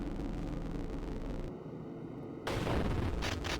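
Video game gunfire: a loud, noisy burst of shots with a brief drop into a quieter gap before another heavy blast of fire returns.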